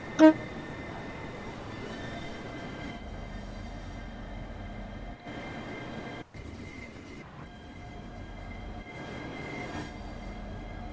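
A Southeastern high speed train in Train Sim World 2 hums and rumbles steadily with a sharp tone at the very start, faint whining pitches overhead and a few brief dropouts in the drone along the way.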